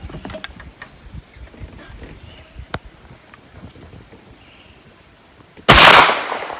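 Quiet clicks and handling noises at an outdoor shooting range during reload testing, then one sharp, loud gunshot near the end that fades in a short decaying echo.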